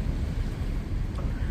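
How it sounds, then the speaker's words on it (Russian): Steady rumbling wind buffeting the microphone outdoors on the river cruise ship Pavel Bazhov on the Volgograd–Perm route, a continuous low roar with no voices. "Теплоход немного повернул, и опять начался ветер."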